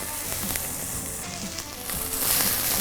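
Onions sizzle and fry in hot oil in a pan, a steady crackling hiss close up that grows slightly louder near the end, with no talking.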